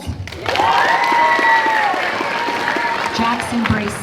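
Audience applause at a speech and debate awards event, a sustained wash of clapping that swells in and holds steady for several seconds, with faint voices mixed in.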